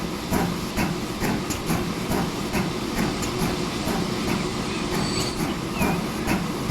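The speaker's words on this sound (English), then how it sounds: "Here come the first of the trains." Trains roll into a station in the railway-building game Transport Fever 2, with a steady rumbling hiss and rhythmic clicking of wheels over rail joints, continuous and fairly loud, no talking.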